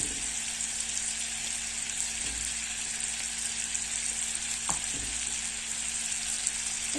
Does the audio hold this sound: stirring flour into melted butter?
yes